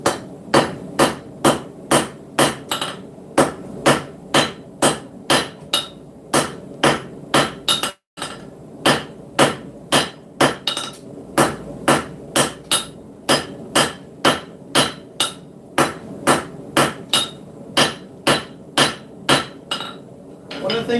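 Heavy hammer forging a knife tail on an anvil, struck in a steady, rapid rhythm of loud ringing metallic blows, about two per second, with one brief pause midway.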